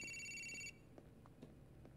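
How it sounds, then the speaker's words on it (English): A phone rings in Grand Theft Auto IV with a bright electronic trill for under a second, then stops, leaving quiet room tone with small clicks. "The phone's ringing."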